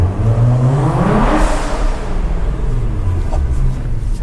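A modified Nissan GT-R engine revs hard inside a tunnel, a loud, close roar that swells and echoes off the walls, then settles into a rumbling drone with no talk.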